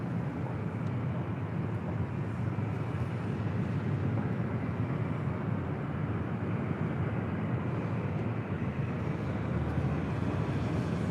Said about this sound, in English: That is Delta Airlines Flight 2272 heading to SFO in the 737-800